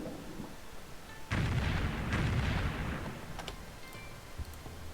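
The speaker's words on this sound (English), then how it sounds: "Now that that's injured, we can bombard what's underneath it." Artillery bombardment in Civilization III, set in a World War 2 scenario at the siege of Stalingrad, a rumbling barrage that bursts in suddenly and roars steadily for a couple of seconds before tailing off, with a few sharp pops near the end.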